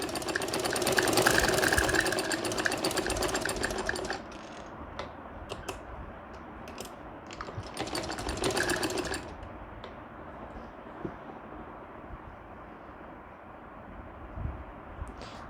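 A sewing machine stitching a kurti neck runs in bursts, its fast rhythmic whirring chatter loud for a few seconds, stopping, then resuming, with quieter fabric handling and clicks between runs.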